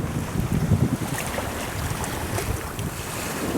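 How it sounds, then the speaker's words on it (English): A sailboat running downwind at about 15 knots of wind on the Ionian Sea, with steady wind buffeting the microphone over rushing water and waves, continuous and fairly loud throughout. "We're sailing downwind"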